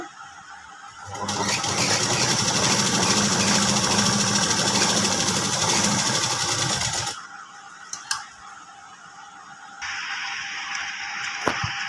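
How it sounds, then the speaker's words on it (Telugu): A sewing machine runs steadily for about six seconds, top stitching along the edge of fabric for chudidar pants, followed by quieter handling and a faint continuing hum. "ఈ ఎడ్జ్లో టాప్ స్టిచ్ ఇలా వేసుకోవాలండి."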